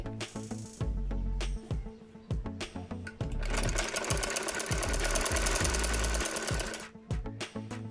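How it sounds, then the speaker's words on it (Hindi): An electric sewing machine stitches a shalwar seam as the cloth is pulled along, bursts of rapid mechanical needle clatter stopping and starting, with one long sustained run in the middle; loud and close. "खींचेंगे, सिलाई लगा लेंगे।"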